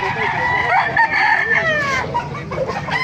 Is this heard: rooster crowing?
yes